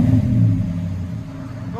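Car engine exhaling through a Flowmaster muffler, a loud close rev that swells and then eases back toward idle, with a voice speaking briefly near the end.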